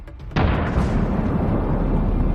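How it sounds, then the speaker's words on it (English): A tank blows up under an FPV kamikaze drone strike: after a brief quiet moment, one sudden loud blast bursts in and rolls on as a dense, sustained roar of rumbling debris and fire. "taking aim, it delivered a strike that caused a powerful explosion"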